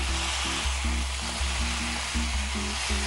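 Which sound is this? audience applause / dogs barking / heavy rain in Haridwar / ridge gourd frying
ridge gourd frying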